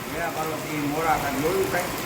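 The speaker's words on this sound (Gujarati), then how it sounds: "આ વરસાદ જો આ વરસાદને લીધે" Rain falls steadily at a temple, a soft even wash running through the whole moment while people talk nearby.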